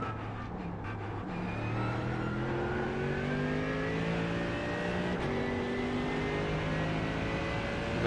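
A McLaren race car engine in the iRacing video game at Sebring revs and rises in pitch under steady acceleration, a continuous, moderately loud whine and drone heard alone.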